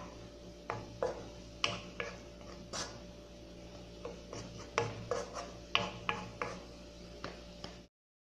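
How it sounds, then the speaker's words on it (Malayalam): A spoon stirs and scrapes through a curry of tomato, green chilli, spinach and onion in a pan, giving a string of irregular close scraping knocks over a low background hum. "നന്നായി ഇളക്കി മിക്സാക്കി എടുക്കാം"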